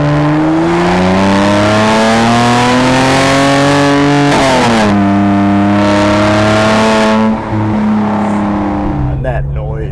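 A 2017 Mercedes-AMG C43 Coupe engine accelerates hard, climbing in pitch through gear changes with a loud, rising growl, then eases off near the end; a voice is briefly audible alongside the engine.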